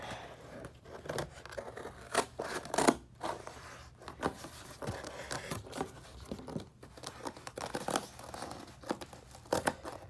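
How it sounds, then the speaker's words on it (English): Scissors snip and crunch through cardboard in repeated close cuts, with crinkling and rustling between strokes in a quiet room. "If your scissors cooperate with you, you cut it out."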